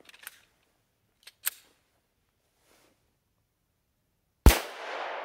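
A 10mm Glock 40 pistol with a Lone Wolf 9-inch barrel, loaded with extreme penetrator rounds, fires one sharp, loud shot with a ringing tail, preceded by a few faint handling clicks.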